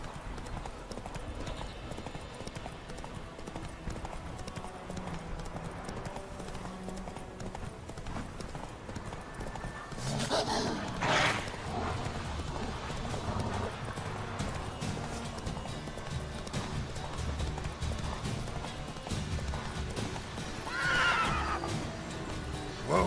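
Roach, a horse in The Witcher 3, gallops with steady clip-clopping hooves and gives a loud whinny partway through, then another later, over continuous outdoor game ambience.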